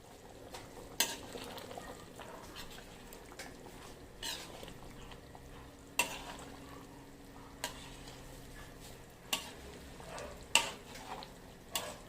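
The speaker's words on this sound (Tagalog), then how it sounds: "Yan na, kumukulo na guys. Yung niluluto natin na diniguan." A pot of dinuguan stew bubbles and simmers quietly at a low, steady level, broken by scattered sharp clacks of a spoon stirring against the pot.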